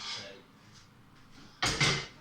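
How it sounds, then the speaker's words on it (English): An oven drawer being pulled out at the bottom of a kitchen oven, a sudden near scraping slide followed by a second rattling pull, after a quieter stretch with a voice nearby. "take the drawer out the bottom"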